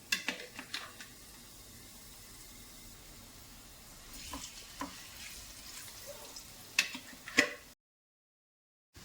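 Cauliflower frying in hot sunflower oil in a pan, a steady soft sizzle with occasional sharper pops and spatters, quiet and close, cutting off to silence near the end.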